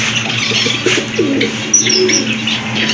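A pigeon gives soft, low coos close by over a constant background hum, with a few faint chirps from other birds.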